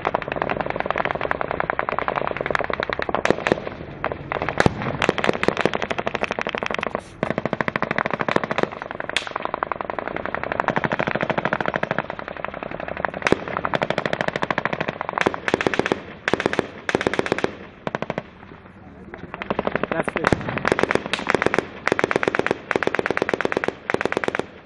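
Sustained heavy gunfire with bursts of rapid automatic fire and sharp blasts at a combat position, loud and nearly continuous with a few brief lulls, as an incoming Excalibur artillery round is awaited.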